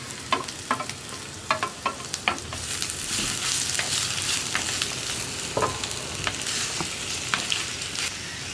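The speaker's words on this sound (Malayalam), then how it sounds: "നമ്മൾ കട്ട് ചെയ്ത് വെച്ചിരിക്കുന്ന പച്ചമുളകും സവോളയും ചേർത്ത് കൊടുക്കാം." Green chillies and onions sautéing in hot coconut oil, a few early crackling pops settling into a continuous close sizzle with occasional stirring scrapes.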